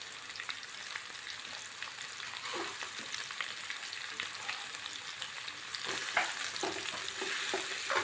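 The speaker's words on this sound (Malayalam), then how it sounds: "ഒരു ചെറുതായിട്ടൊന്ന് മൂക്കണം സവാള അരിഞ്ഞതാണ്" Chopped onions sauté in a pan with curry leaves, a steady soft sizzle that grows a little louder partway through, punctuated by light stirring scrapes, with no talking.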